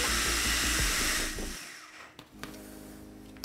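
A food processor blends pesto sauce with a loud steady whirring roar, then winds down and stops, leaving quieter room noise with a few small knocks.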